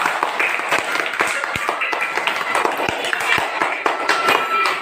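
A group claps along in a children's parcel-passing game, with many quick, sharp claps in a steady run that stays close and lively throughout.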